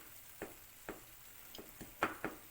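Beaten eggs being stirred with a spatula in a hot pan for egg kothu chapathi, giving faint, scattered scrapes and light taps at an uneven pace over a soft sizzle, with no talking.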